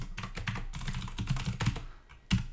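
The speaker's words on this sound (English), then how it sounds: "And then let's also type in a subject," Typing on a computer keyboard, a quick run of clustered keystrokes with a few louder taps near the end, close and alone with no talking.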